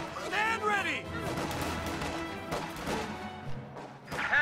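A Company of Heroes battle where a machine gun crew repositions, scattered bursts of gunfire and impacts mixed with game sound effects and unit voices, under a steady commentator's voice.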